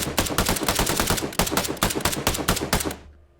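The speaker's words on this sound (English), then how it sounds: "you can activate the arpeggiator and simulate a fully automatic weapon" A fully automatic weapon simulated with the arpeggiator of the Edward Custom gun sound library fires a rapid, even burst of loud shots for about three seconds, then stops abruptly with a short decaying tail.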